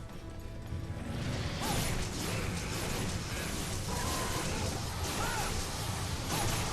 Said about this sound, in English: I'm gonna sharpen my weapon one more time.